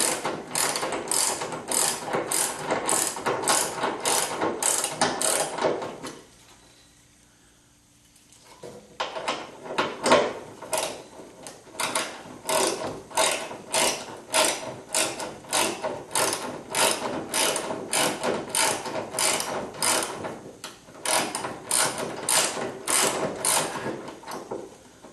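A ratchet wrench tightens bolts on the spare tire carrier of a 1976 Corvette restomod, with long runs of rapid, loud clicking, a brief pause, then steady ratcheting resumes.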